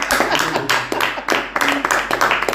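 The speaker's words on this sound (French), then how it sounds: "Applaudissons pour ça." A church congregation claps after a testimony about a revival, several uneven bursts of hand clapping at moderate volume with some murmured voices underneath.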